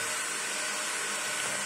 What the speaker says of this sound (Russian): болгарку, ставим на нее лепестковый кружок.